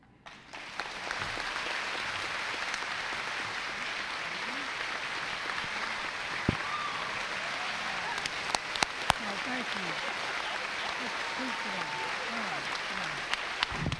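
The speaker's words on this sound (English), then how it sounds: "please give a round of applause to my hero, Master Sergeant Greg Stevenson" A school crowd at a Veterans Day assembly gives sustained applause, a steady, fairly distant wash of clapping from a large audience that carries on evenly for the whole stretch.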